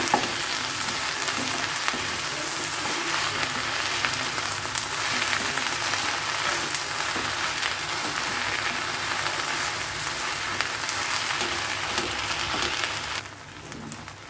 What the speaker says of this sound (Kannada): ಇವಾಗ ನೋಡಿ, ಸ್ವಲ್ಪ ಲೋಳೆ ಎಲ್ಲ ಬಿಟ್ಕೋತಾ ಇದೆ. ಚೆನ್ನಾಗಿ ಫ್ರೈ ಆಗಬೇಕು.